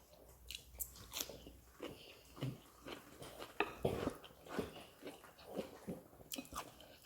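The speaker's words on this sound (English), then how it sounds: "If you hear chewing in the background, Coco just found the cucumber that I dropped" A dog chews a dropped cucumber nearby, irregular wet crunching bites and squishy chewing repeating every half second or so, fairly quiet and close.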